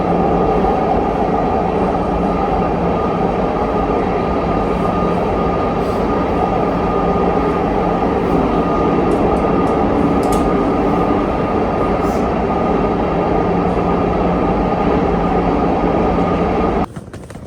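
Steady, loud rumble of a Milan metro M4 train in motion, heard from inside the carriage, with continuous rail and wheel noise that cuts out near the end.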